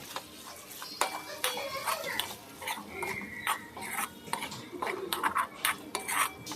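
Boiled potato, cauliflower, peas and butter stirred into a tomato pav bhaji masala in a pot, with irregular metallic clinks and scrapes of a spoon against the vessel, close up, and someone speaking softly at times.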